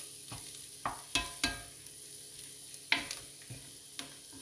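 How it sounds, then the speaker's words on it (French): Flour cooking in a pan for a meurette sauce, with quiet sizzling under a series of sharp scraping and stirring knocks spread across the few seconds, and no talking. "On va cuire un petit peu la farine."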